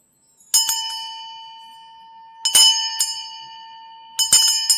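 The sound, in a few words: meditation bell ringing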